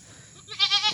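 A single goat gives a short, close, nasal bleat with a wavering, quavering tone, rising loud out of quiet farm surroundings.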